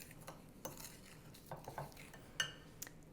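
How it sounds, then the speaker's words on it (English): A utensil stirs butterscotch banana bread ingredients in a bowl, giving soft, scattered clinks and scrapes that stay faint and irregular in a quiet room. "I'm just going to give this a little mix to start to incorporate it"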